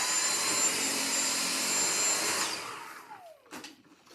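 A stick vacuum cleaner sucking up spilled oats whirs with a loud steady roar, then powers down and winds off into near silence with a few faint bumps at the end.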